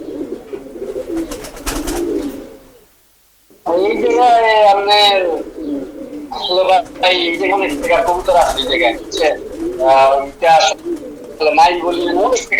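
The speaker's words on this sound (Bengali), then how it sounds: "কবুতর আছে" Pigeons coo and burble repeatedly close by at a pigeon collector's loft in Bangladesh while people talk over them; there is a brief silent gap early on.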